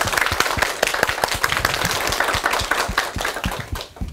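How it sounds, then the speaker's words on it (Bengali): A college crowd applauds the principal and staff with loud, dense clapping that stays full and energetic throughout, then tapers off at the very end. "সবার জন্য একবার জোরে হাততালি হবে সবার আগে"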